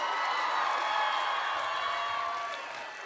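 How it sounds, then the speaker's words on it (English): Faint, steady applause rolls from a graduation crowd at a college commencement ceremony and fades slightly toward the end. "That deserves a round of applause."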